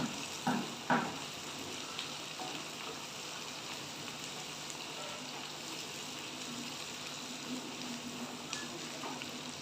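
Green chilli, capsicum and tomato cooking together in a pan for mutton keema ghugni give a steady, soft sizzle with a couple of brief stirring knocks near the start.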